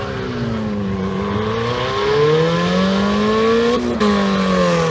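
A Chevy S10 and a Mazda Protege race on an oval track, their engines revving hard with rising and falling pitch, loud and close, with a brief tire squeal near the end.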